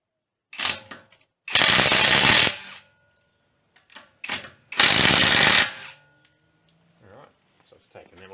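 An Ozito PXC 18V brushless impact wrench undoes wheel nuts torqued to 150 newton meters in two loud, close hammering bursts, each about a second long, with someone talking before and between them.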